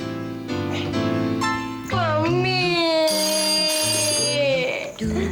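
A melodic electronic ringtone plays a bright tune of sustained tones, loud and close, shifting pitch in steady steps for several seconds.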